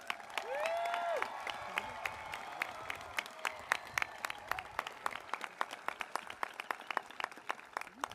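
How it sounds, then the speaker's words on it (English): Scattered, fairly faint clapping at a school commencement for a graduating class, distinct individual claps spreading out and thinning over several seconds after a brief tonal sound at the start. "Can we have another round of applause for this wonderful class?"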